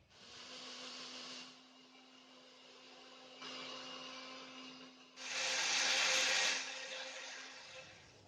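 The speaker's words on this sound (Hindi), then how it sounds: "पहले मैं इन दोनों चीज़ों को ब्लेंड करती हूँ" Electric blender whirring as it mixes sugar and eggs for a no-bake egg pudding, running steadily in bursts with a louder, harsher stretch near the end, no talking.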